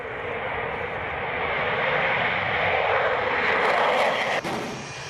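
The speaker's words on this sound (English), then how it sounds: "The planes at Prestwick Airport set off as part of the international effort to secure a no-fly zone" Canadian military jets take off from Prestwick Airport, a loud continuous engine roar that swells over several seconds and stays steady, with no other sounds over it.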